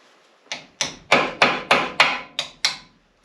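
Eight sharp, evenly spaced hammer blows drive greased stainless steel spring clips into a brake caliper on a 1975-1991 Ford Econoline, each strike loud, close and ringing briefly before the next, with no voices.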